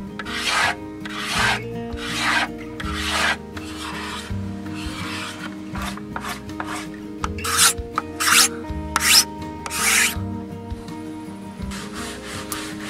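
A cabinet scraper smooths a padouk rib for a baritone guitar body, making a run of close, dry rasping strokes in an uneven rhythm with short pauses between passes and no voices.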